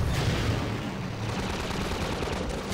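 Dense, continuous video-game gunfire from an SMG-style weapon, loud and unbroken with rapid overlapping shots filling the whole moment, no voices.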